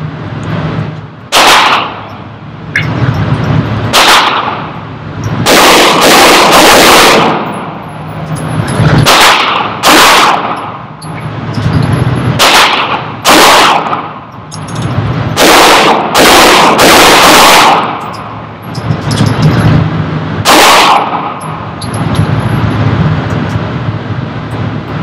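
A CZ 75 P01 Omega pistol fires on an outdoor shooting range with mixed 115 and 124 grain ammunition, loud sharp reports in irregular strings, some shots spaced apart and others in quick succession, with echoes and handling noise between them.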